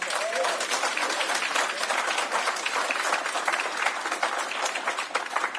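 Sustained audience applause fills a Juneteenth celebration in Washington State, a dense, steady wash of many hands clapping at even loudness throughout, with no pauses.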